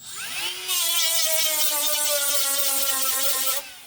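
A small handheld air sander whirs steadily against the floor panel of a 1964 Plymouth Fury, spinning up over about half a second, holding a loud, even buzz for three seconds, then cutting off.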